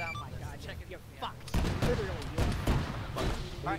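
Gunfire from a BMP armored vehicle in the Arma 3 video game: heavy bursts and booming shots that start abruptly mid-clip and repeat over several seconds, with players talking over them.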